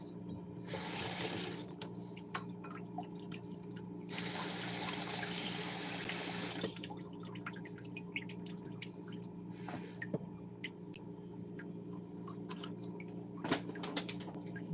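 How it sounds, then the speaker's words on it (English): A kitchen tap runs in two short bursts, a brief splash and then a longer steady flow, over a constant low hum in an indoor home kitchen, with no talking. "this is where I'm gonna get a little bit of water"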